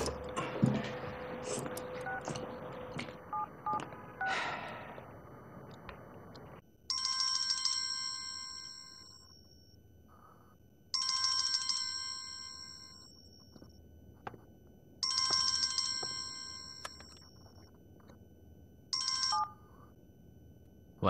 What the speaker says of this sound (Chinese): 我给刘玲打个电话。